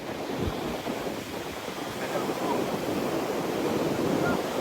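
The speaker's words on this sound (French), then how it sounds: "ça commence à arriver les vagues tout ça" Ocean waves at a beach in Kamakura, Japan wash in as a steady broadband roar, mixed with gusty wind buffeting the microphone, loud and continuous without clear separate breaks.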